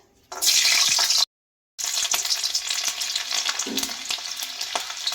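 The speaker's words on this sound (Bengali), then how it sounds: "রসুনটা ভেজে নেব" Garlic cloves fry in mustard oil in a wok with a bright, steady sizzle, broken by a half-second gap, then crackling on with occasional stirring scrapes.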